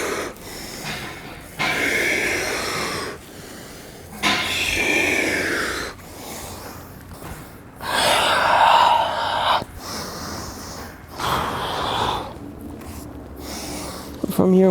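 Heavy breathing after exercise, with long loud breaths in and out repeating in slow waves, close to the listener.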